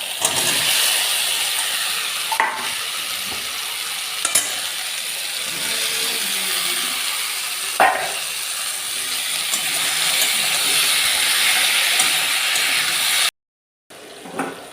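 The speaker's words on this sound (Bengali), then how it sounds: "এরপর আমি ভেজে রাখা এঁচোড় আর আলু একে একে দিয়ে দেবো" Fried jackfruit and potatoes go into a pan of well-cooked spice paste and fry in it, giving a continuous loud sizzle broken by a few sharp stirring scrapes and clatters, then a brief cut to silence near the end.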